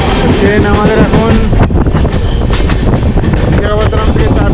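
Howrah SF Express train rolling into Khurda Road junction, with a continuous rumble of wheels and carriage rattle, wind buffeting the microphone and a voice talking over it.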